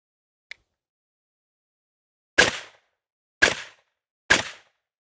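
Three suppressed shots from a PTR .308 battle rifle ring out on an outdoor range, spaced about a second apart, each a sharp loud crack with a short decaying tail, preceded by a faint tiny click and otherwise silence.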